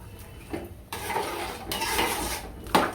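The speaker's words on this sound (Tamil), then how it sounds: "இப்போ இது பாத்திரத்தை வச்சு மூடி வச்சுருவோம் கொதிக்கிற வரைக்கும்" A lid set onto a cooking pot of prawn and bottle gourd curry, with several close metallic clanks and scrapes of cookware, the last one sharp and loud.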